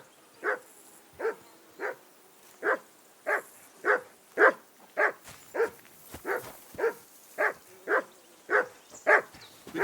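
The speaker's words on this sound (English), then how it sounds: "That dog of yours is barking like the devil." A dog in the 15th-century Bohemian countryside of Kingdom Come Deliverance 2 barks repeatedly at a steady rhythm, about fifteen sharp, fairly close barks across the stretch with no talk over them.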